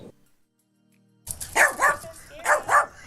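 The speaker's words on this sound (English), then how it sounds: "a feisty Chihuahua mix with one tooth who likes to bark" A feisty one-toothed Chihuahua mix barks four times in a quick, sharp, high-pitched series, loud and close, after a second or so of near silence.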